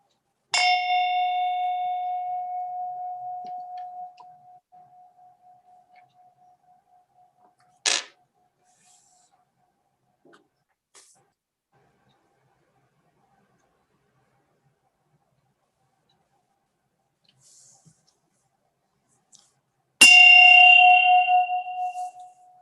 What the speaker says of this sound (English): I'll begin the meditation with the ringing of the bell and end it with the ringing of the bell